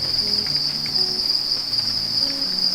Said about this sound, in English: Look at all those crickets.